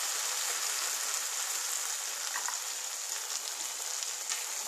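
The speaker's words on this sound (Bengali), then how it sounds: "এবারে আমি জল দিয়ে দিচ্ছি," Water poured into a frying pan of pointed gourd with poppy seed sets off a steady, loud hissing sizzle that runs unbroken throughout, with no voices.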